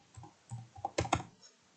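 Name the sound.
typing on a computer keyboard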